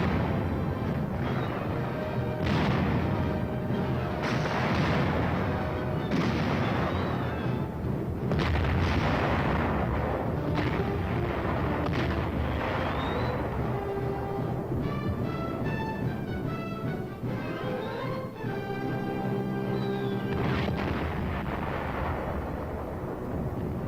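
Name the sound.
tank gun firing in combat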